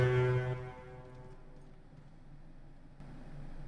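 A deep honking warning tone from the Realm Royale video game blares loud for about half a second, then fades into quiet low rumbling background.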